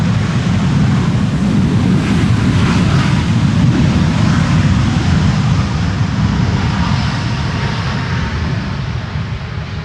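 Airliner on landing at Amsterdam Schiphol runway 18R, thrust reversers deployed, producing a loud, sustained broadband roar with wind-like rushing that holds steady and slowly eases toward the end.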